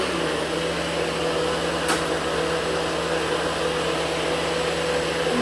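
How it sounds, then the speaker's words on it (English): A powerful blender running continuously while blending seeds, a steady loud whirring motor noise heard alone without talk. "This one can actually blend seeds, okay?"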